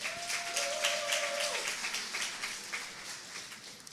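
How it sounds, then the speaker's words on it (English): A graduation ceremony audience claps steadily, a dense, even wash of applause heard from within the hall, with a brief tone sliding through near the start. "Can we please give one more round of applause for Ms."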